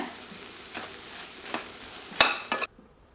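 A pan of beans stir-fry with grated coconut sizzles under a few scraping stirs of a spatula, ending with a couple of louder metallic scrapes before the sound cuts off.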